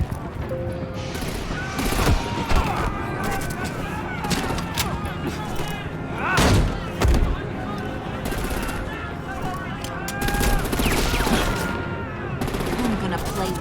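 Gunfire in the video game Batman: The Enemy Within, loud rapid bursts and volleys of shots layered with combat noise and music, with voices shouting over the action.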